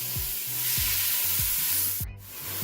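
Minced beef with ginger garlic paste sautéing in a pan for Lebanese meat pies, a steady hiss of frying with regular low knocks of a spoon stirring, and a brief sharp burst near the end.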